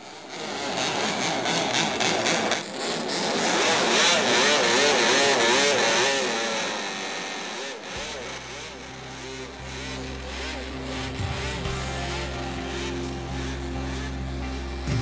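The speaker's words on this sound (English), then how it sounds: "So, bikes fired up and ready to go" Vintage racing motorcycles fire up and ride past on a track, loud engines revving and roaring by up close with rising and falling pitch, then settling to a rough, throbbing idle.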